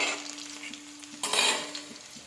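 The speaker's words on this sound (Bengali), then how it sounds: "আমার পেঁয়াজটা লাল হয়ে গেছে ভাজা হয়ে গেছে এবার আমি মাংসটা দিয়ে দিচ্ছি" Meat goes into a pan of browned fried onions and is stirred, giving a close, continuous sizzle that swells into a louder burst partway through as the pieces are turned, with no talking.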